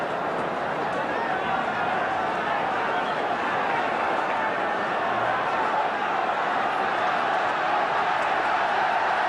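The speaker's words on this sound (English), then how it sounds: "Tremendous backing from the Carrow Road crowd now for Norwich" A football crowd at Carrow Road backs Norwich against West Brom in 1979 with a continuous distant roar of cheering, held steady throughout while a voice talks over it.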